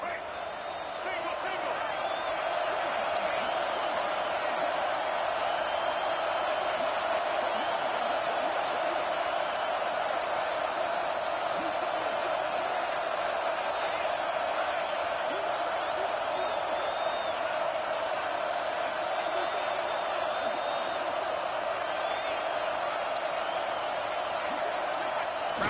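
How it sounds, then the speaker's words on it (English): A college football stadium crowd roars steadily on a fourth down, a dense continuous wall of cheering that holds at an even level throughout with no break. "Crowd trying to help out here on fourth down."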